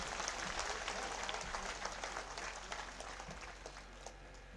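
A crowd at a BJP Scheduled Castes and Scheduled Tribes convention in Taranagar claps to welcome Arjun Ram Meghwal, a dense burst of applause that is loudest at the start and slowly thins out.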